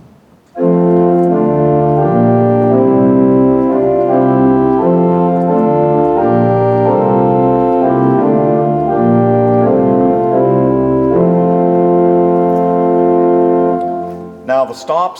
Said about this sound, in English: And then there are stops that sound like nothing else but the organ.